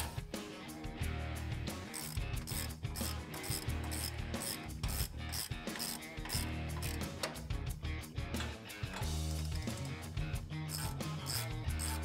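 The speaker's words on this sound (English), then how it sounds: "And then I'll get my 17 millimeter socket to tighten these down." A ratchet fitted with a 17 millimeter socket tightens brake bolts on a Toyota Tacoma, clicking in a quick, continuous series of close, crisp ratchet strokes with brief pauses.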